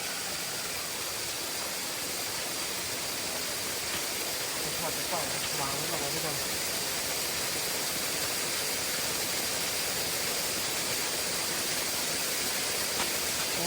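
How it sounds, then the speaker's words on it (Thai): A waterfall rushes in a continuous, dense, broadband roar that holds steady throughout, close and loud, with faint indistinct sounds barely emerging beneath it. "เสียงน้ำอาจจะดังหน่อยนะทุกคน เพราะว่า อยู่ใกล้น้ำตกนะ"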